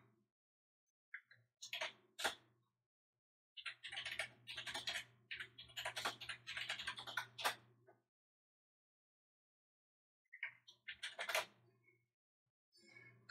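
Bursts of computer keyboard typing, a 922 Pro Stream board, clatter in close, quick rhythmic runs separated by pauses, with no speech over them.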